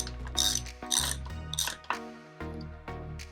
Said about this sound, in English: we're gonna take the cassette tool and we're gonna tighten this back down